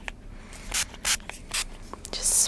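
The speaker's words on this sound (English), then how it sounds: "Just spraying it all on my skin." MAC Fix Plus setting spray is misted onto skin in close-up, several short hissing spritzes spaced about half a second apart, crisp and near, with quiet rustling between bursts and no talking.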